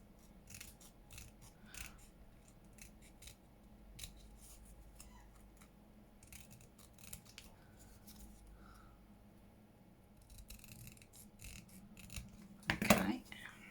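Scissors trimming a sheet of masterboard card for a hinged journal, a short cluster of close, crisp snips near the end after a long stretch of quiet rustling and handling.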